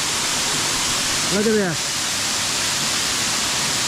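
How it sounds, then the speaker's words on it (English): A waterfall on the Sougahoagdee Falls trail in Alabama, tumbling over rocks into smaller cascades, gives a steady, broad rushing roar close by throughout. Someone speaks briefly over it. "I'm right square in the middle of this waterfall"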